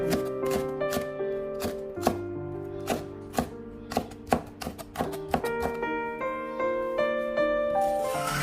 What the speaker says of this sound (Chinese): 片开之后再改刀将红线椒切碎